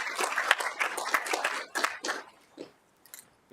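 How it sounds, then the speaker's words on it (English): Audience applause at a junior council meeting, a burst of clapping from a room of people that fades out after a couple of seconds. "Big round of applause for Aidan."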